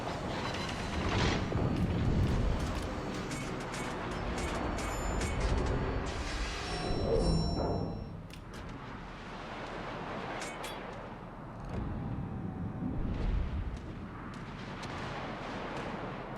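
Warship guns fire in an online naval battle game, with heavy booming salvos and rumbling blasts rolling over a continuous dense battle din, loud and with no talk.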